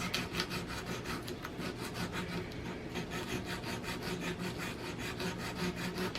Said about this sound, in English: this is the only nail that you will be filing the nail bed and the tip at the same time